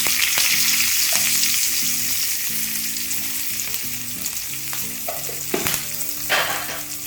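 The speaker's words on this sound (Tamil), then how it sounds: "இந்த ஸ்டேஜில் நான் கருவேப்பிலை சேர்க்குறேன்" Curry leaves sizzle and crackle in hot oil for a brinjal masala rice, a steady loud frying hiss with sharp pops and spatters scattered throughout and occasional stirring clinks, no voices.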